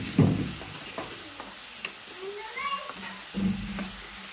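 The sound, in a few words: chili powder frying in oil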